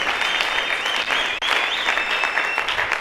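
A church congregation at a Shadrack Ministries service applauding the Lord with sustained, dense clapping and a brief dip in the middle, plus a faint voice or cry underneath.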